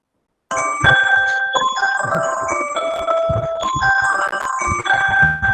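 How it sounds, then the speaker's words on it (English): A mobile phone goes off during an academic talk on astronomy, its melodic ringtone repeating in steady, bright tonal phrases at fairly loud level, alone with no talk over it. "has his phone unmuted and it's ringing."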